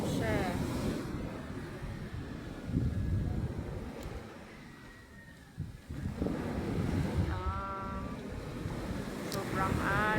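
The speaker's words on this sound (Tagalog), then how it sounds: "maalon siya eh." Rough, choppy sea waves churning and washing against the shore with gusty wind buffeting the microphone, while people talk over the surf and shout now and then.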